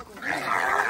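A dog growls in a low, rumbling snarl that swells and holds for under a second, close and moderately loud, with no talk over it.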